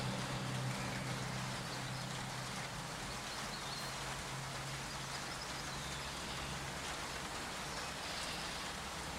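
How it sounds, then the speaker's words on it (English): Steady rain falls on a wet day near an eagle nest, a dense, even patter and hiss with no pauses, heard over a low constant rumble. "It's been a very wet day."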